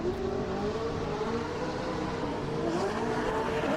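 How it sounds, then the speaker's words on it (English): Formula Drift race cars sweep around a banked track, a steady, loud engine drone with rising and falling pitch that holds throughout, with no talk over it. "Now we can hear a couple cars on the bank."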